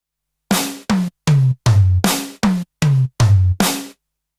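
Eight short, dry hits on a Yamaha DTX6 electronic drum kit with shortened sounds, snare and tom strikes in a quick, even run, each one loud and close, ending crisply with no reverb tail.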